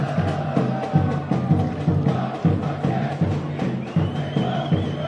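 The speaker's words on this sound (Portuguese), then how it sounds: "Sensacional o barulho dessa torcida" Unidos do Picerno fans roar in the stands at a football cup final, a loud, dense crowd noise with rhythmic pulses like clapping or drumming beneath massed voices.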